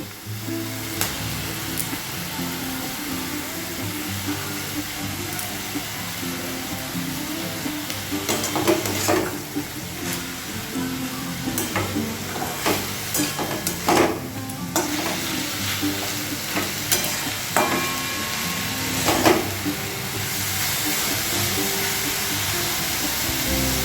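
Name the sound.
shredded chicken frying in pan for chicken thukpa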